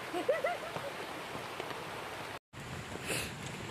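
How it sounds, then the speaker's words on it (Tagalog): Heavy rain falls at a countryside campsite, a steady soft hiss of drops with a few faint bird chirps early on and a brief dropout near the end. "medyo malakas pa yung ulan"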